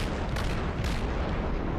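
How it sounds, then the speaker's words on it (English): Naval guns boom in World of Warships as a ship fires parting salvos at a fleeing destroyer: two sharp blasts with rolling low rumble, moderately loud amid continuous game noise. "Fires some parting shots at the Clemson."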